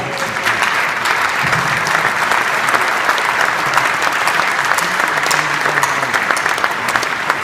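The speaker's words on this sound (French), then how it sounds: "Je voudrais que vous les applaudissiez déjà." A crowd claps steadily at the launch of Moselle Attractivité in Metz, producing dense, sustained applause with no break.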